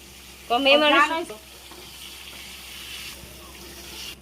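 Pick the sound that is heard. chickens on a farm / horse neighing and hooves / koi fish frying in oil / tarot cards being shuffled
koi fish frying in oil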